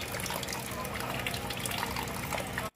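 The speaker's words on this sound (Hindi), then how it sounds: "यहाँ से ना कुछ पानी नीचे आ रहा है" Water leaks and trickles from a faulty gas water geyser, a continuous splashing dribble running steadily and fairly close before cutting off abruptly.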